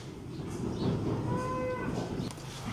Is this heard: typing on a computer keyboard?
no